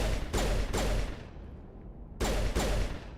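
Pistol fire in Mass Effect 3: a few loud, sharp reports in quick pairs, a short pause, then two more shots, close and punchy with ringing tails.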